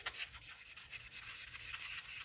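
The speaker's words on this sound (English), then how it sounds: "I'm just going through and just lightly sanding" Light sandpaper rubbing across a plastic model of the K7 space station, a steady soft rasping scrape with faint stroke-by-stroke pulses, close and quiet, no voices.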